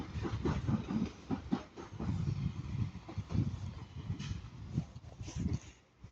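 Northern Class 323 electric train passing on rails, rhythmic wheel clatter and rumbling thumps over joints, fairly close and continuous before fading at the end.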